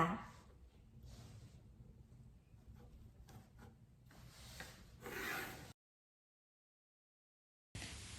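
A marking line is drawn on fabric while pattern-cutting shorts, giving a close, soft rubbing and scratching that comes in short strokes and then stops, followed by silence and a final burst of rubbing.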